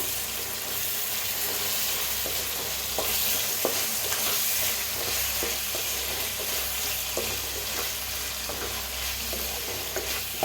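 Pasta coated in chili sauce is stirred in a hot pan, a steady loud sizzle broken by frequent small spatula scrapes and clicks in an irregular rhythm, with no voices.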